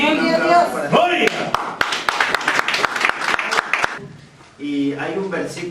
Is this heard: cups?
no